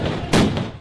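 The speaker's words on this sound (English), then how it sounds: "as police fired water cannon and stun grenades." A police stun grenade goes off at a chaotic street protest in Cape Town calling for a ceasefire, a single sharp, loud blast over a dense background roar of the crowd.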